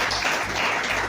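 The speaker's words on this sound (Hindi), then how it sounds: "जोरदार तालियां के लिए," Delegates at an employees' federation conference give vigorous applause, a thick, sustained wash of clapping from a large crowd, loud and even throughout.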